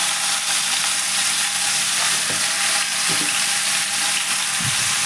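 Raw mango pieces for sweet pickle sizzle in a pan while being stirred, a loud constant hiss broken by a few low scraping thuds of the spoon near the end, close up with no voices.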